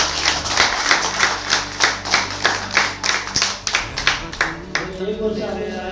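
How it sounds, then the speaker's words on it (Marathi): An audience at a school Independence Day event claps together in a loud, steady rhythm for several seconds, then the beat loosens and fades into scattered claps as a voice comes in at the end. "सगळ्यांनी टाळ्या वाजवायच्या"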